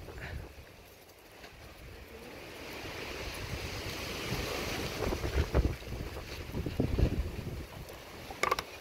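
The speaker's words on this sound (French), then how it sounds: "Il y a beaucoup de vent." Steady wind blusters against the microphone, rising and gusting louder toward the end, with occasional faint knocks and rustles.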